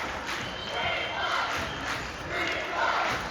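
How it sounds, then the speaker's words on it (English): High school basketball crowd in a gym at a Creekwood versus Jackson South Side game, loud massed voices rising and falling in rhythmic chanting waves, filling the hall. "And now all you hear are chants of Creekwood in the gym."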